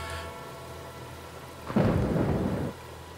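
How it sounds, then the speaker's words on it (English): Thunderstorm in the horror video game Carrier: a steady hiss of rain, then a loud rolling thunder crash that swells and rumbles for about a second before fading back to the rain. "Oh, spooky storm now."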